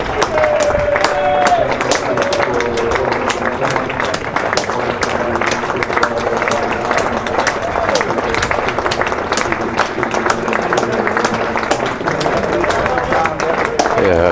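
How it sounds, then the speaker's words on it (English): Applause from a cricket crowd at a County Championship match between Leicestershire and Glamorgan, sustained clapping with some cheering and crowd babble, carrying on steadily over talk. "let's hear the applause"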